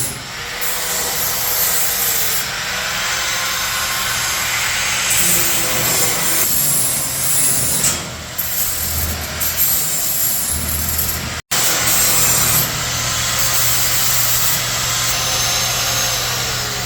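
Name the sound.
grinding down the sharp edges of a cut metal floor piece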